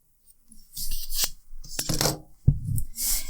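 Yarn tails being trimmed after a Russian join in crochet, a few short snips and rustling handling noises in quick succession, close and clear with no talk.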